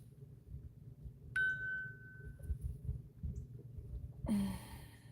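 A phone app notification ding rings out once as a clear, bright tone that fades over about a second, followed later by a short rougher chime over a low background rumble.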